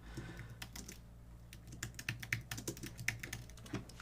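Rapid clicking of keys on a computer keyboard, irregular bursts of taps close by with brief pauses between them.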